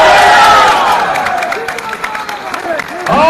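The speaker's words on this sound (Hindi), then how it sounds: "लगाओ ना ताली यार।" A crowd at a PTI political convention in Peshawar claps and cheers, with a continuous wash of applause under a man's amplified speech.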